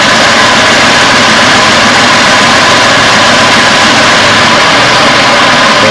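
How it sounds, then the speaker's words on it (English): A 1999 Toyota Tacoma's engine idles steadily and loudly with its AC compressor engaged, a constant broadband hum with no pauses and no voices throughout. "listen, you're gonna hear the pump kick."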